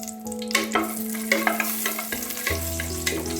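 Whole spices such as cinnamon, cloves, cardamom, star anise and bay leaf crackle in hot ghee while chickpea biryani is being made, giving a steady close sizzle with sharp pops and a low tonal hum beneath.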